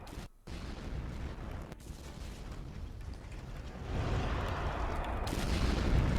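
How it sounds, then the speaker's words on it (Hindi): Explosions from US bombing near the Strait of Hormuz in Iran: a continuous rumbling roar with dense booming texture, briefly dropping out near the start and swelling louder in the second half. "उसके आसपास विस्फोट की आवाजें आ रही हैं"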